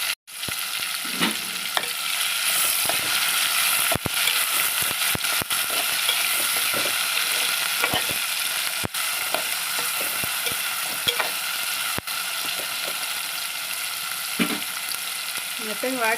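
Tomatoes frying and softening in a pan for a ridge gourd curry, a steady close sizzle running throughout with scattered clicks and scrapes of stirring.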